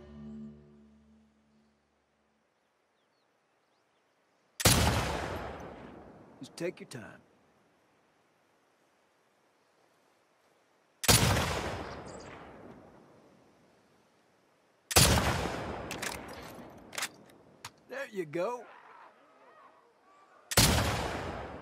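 Rifle shots in The Last of Us Part 2, four loud single cracks spaced several seconds apart, each ringing out with a long echoing tail, with a voice speaking briefly between them.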